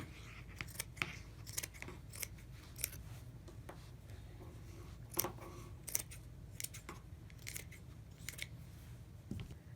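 Scissors snip through old lace in a series of crisp, close, quiet cuts at an irregular pace over a low steady background hum, with no talking.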